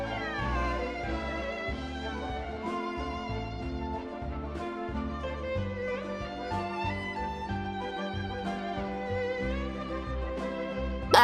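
A cat in a video game, meowing repeatedly over a sustained musical score, the cries standing out above the steady background music and no voices heard.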